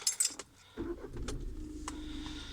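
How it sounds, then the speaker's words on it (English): Keys jingle briefly, then a Volkswagen-group car engine turns over and settles into a low, steady idle nearby. "Just going to start the car."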